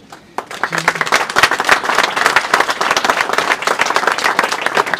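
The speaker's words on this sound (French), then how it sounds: "j'aimerais qu'on l'applaudisse d'ailleurs" An audience at the Hôtel La Prison in Béziers applauding the architect: dense, steady clapping from a sizable crowd that starts abruptly and carries on nearby for several seconds.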